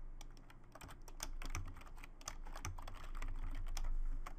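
Quiet, close keystrokes on a computer keyboard tap out in quick irregular bursts, with no talking over them.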